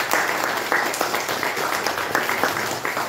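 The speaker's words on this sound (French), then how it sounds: "nous tous applaudissons l'équipe de Amara Rodrigue" An audience at a round table discussion applauds a team, sustained clapping from a small crowd with uneven individual claps audible, fairly close and loud throughout.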